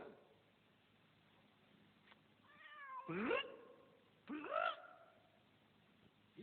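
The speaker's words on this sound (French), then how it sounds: "Viens, mon chat, viens, mon chat." A cat gives two distinct, fairly loud meows a second apart, each with a rising and falling pitch, after a softer, wavering call, against a quiet indoor background.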